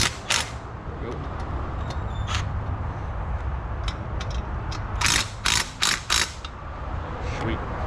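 A ratchet or torque wrench clicks in short bursts while tightening a cast exhaust bolt, close by, with some background noise and talk nearby.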